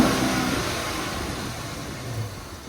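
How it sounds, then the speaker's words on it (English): A police car's engine, a vehicle with a low battery, runs steadily up close after starting, a broad continuous rumble and whir with a slight swell near the end. "There's a startup."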